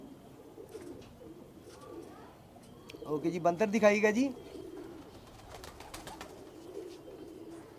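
Teddy pigeons coo in a soft, rolling burst near the middle, close by, while someone talks quietly before and after.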